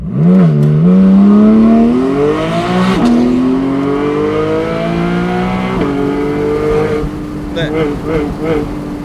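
Porsche Boxster GTS 4.0 flat-six with a gasoline particulate filter and twin catalytic converters revs hard and close, its engine and exhaust note climbing and dropping in several loud, sustained sweeps.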